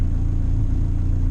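A car engine with VTEC is held around 4,000 rpm during single-cam tuning, giving a loud, steady, close-up engine drone that stays even throughout with no talking.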